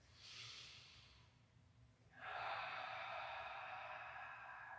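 Deep breathing during a gentle chair yoga practice: a soft inhale, then a longer, louder, airy exhale that carries on to the end, close and quiet, with no talking.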